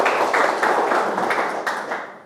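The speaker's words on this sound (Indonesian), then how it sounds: "Boleh tepuk tangan kembali?" A studio audience at a televised dialogue forum with the Banten provincial parliament gives a short round of applause, a brisk burst of clapping that fades out within a couple of seconds.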